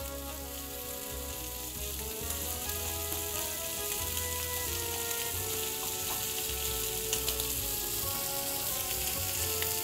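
Bacon fries in a hot pan for a quiche Lorraine, giving a dense, steady crackling sizzle with bright spitting pops, loud and close throughout, with no voices.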